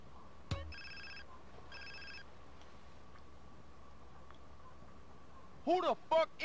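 Phone ringing in the video game GTA San Andreas: two short bursts of an electronic ring tone over low game ambience, with a sharp click before and voices speaking near the end.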